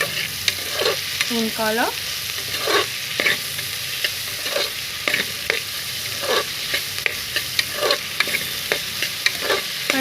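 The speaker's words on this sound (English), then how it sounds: "Continue to mix this on medium to high flame until golden brown" Roughly sliced onions fry over a medium-high flame, heading toward golden brown, with a steady sizzle broken by repeated scrapes and clacks as a spoon stirs the pan.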